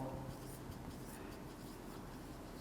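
Soft scratching of writing on a board during a statistics lecture, faint and continuous, with a voice speaking in the room.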